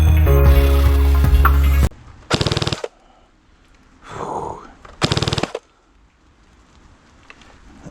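A CYMA CM.060 P90 airsoft SMG fires short rattling bursts: a loud opening burst, then two brief clusters of rapid shots with a softer mechanical whir between them, close and dry.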